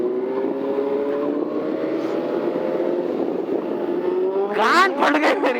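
A rare motorcycle ridden in Pune revs hard, its engine note loud and close, climbing steadily in pitch before a sharp burst of acceleration near the end, with a brief voice over the roar.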